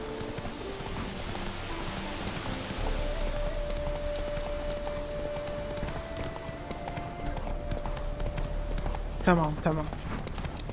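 Roach the horse galloping in The Witcher 3, steady hoofbeats running under game music, with someone speaking briefly over it.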